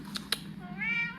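A cat meows once, a clear rising-and-falling call close by. Before it come two soft clicks, and a low background hum sits under everything during a snowstorm.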